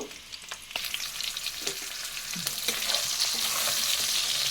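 Pieces of pointed gourd (potol) frying in a pan after tempering spices, with a continuous close sizzle that builds over time, broken by scraping stirs and utensil knocks.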